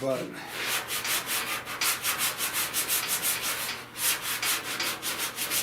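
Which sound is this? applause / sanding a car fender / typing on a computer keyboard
sanding a car fender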